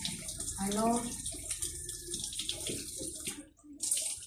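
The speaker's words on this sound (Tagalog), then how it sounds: "maghugas itong ating plato" Tap water runs at a sink while plates are washed, a soft steady splash with brief gurgles and clinks, under someone speaking quietly nearby.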